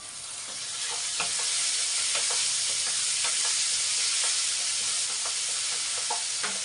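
Onions for onion gojju fry in a pan with a loud, continuous sizzle, close by, and soft stirring taps come through now and then. Nobody speaks.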